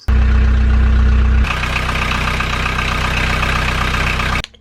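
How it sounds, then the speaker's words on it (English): A narrowboat's engine fires up with a loud, deep starter surge, then settles into a steady, close rumbling idle that cuts off abruptly at the end. No one talks over it. "just started the engine to the boat"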